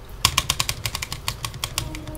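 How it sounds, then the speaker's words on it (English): A rapid series of crisp mechanical key clacks from the space bar of a Cherry MX 10.0N low-profile keyboard with speed switches, about a dozen presses in quick, slightly uneven rhythm, close and clear with no talking. "I like the sound of the space bar."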